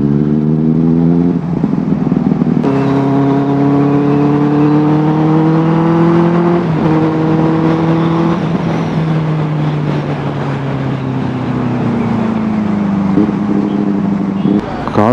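A Benelli 600i four-cylinder motorcycle is ridden with loud, close engine and exhaust tones that rise through the revs in repeated climbs, dip between gear changes and then fall away.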